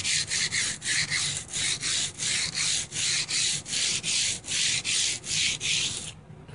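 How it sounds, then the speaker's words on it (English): A steel axe head is wet sanded by hand with sandpaper and soapy water indoors, producing steady back-and-forth rasping strokes at an even rhythm, about two per second, close and loud, with no talking. "Well, here I sit in the living room, wet sanding Matthew Lupo's axe head."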